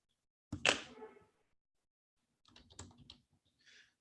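A computer keyboard is used to type notes during a live tutoring session, with one sharp, loud keystroke burst followed after a silence by a few softer, scattered key taps.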